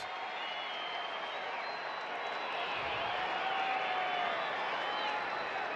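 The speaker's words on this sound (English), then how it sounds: "I think the crowd was loud for a moment there." Baseball stadium crowd at a Cubs vs Padres regular season game, a steady loud roar of many voices with scattered cheering, continuous throughout and swelling slightly toward the end.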